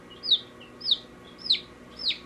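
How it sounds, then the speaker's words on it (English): A hen gives four high, sharp descending calls at an even pace, close by over a faint, quiet background. "This is a hen. And she does that."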